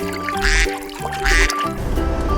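A toy duck gives two loud nasal quacks about a second apart, each a short harsh burst, over faint trickling water and background noise.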